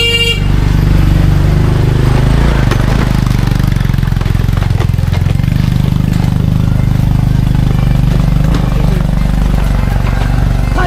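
A motorcycle engine runs loudly and close by on an outing near Mt Balabag, a steady droning rumble with horn-like tones mixed into the noise.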